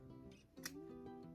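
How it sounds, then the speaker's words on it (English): A single sharp snip of scissors cutting through layered rag quilt seams, close and crisp, amid a quiet low hum with no talking. "And you clip them all."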